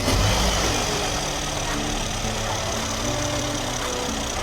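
A Mercedes GLS450, just repaired with new timing chain sprockets, runs at a steady, close idle, its even engine hum loud and unbroken throughout.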